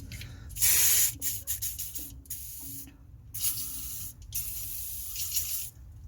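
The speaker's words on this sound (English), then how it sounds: "I'm gonna apply plenty of WD-40 on them." WD-40 sprayed onto the strut bolts of a Honda Civic front suspension, a series of close, loud hissing aerosol bursts of varying length, some long and some quick, separated by brief pauses.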